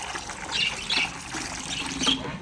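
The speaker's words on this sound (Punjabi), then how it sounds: "ਲਓ ਜੀ ਦੋਨੇ ਕੁੰਡੇ ਆਪਾਂ ਪਾਣੀ ਦੇ ਭਰਤੇ" Water trickles and splashes as it is poured into pigeon water bowls, in a short, close pour with a few bird squawks in the background.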